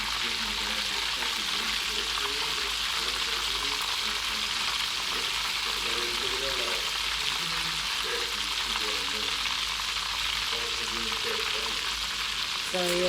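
Egg rolls fry in hot oil with a steady, dense sizzle throughout, joined by soft bubbling and occasional tong handling sounds, and faint talk runs underneath.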